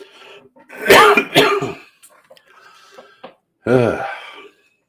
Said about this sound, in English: Sorry about the cough there.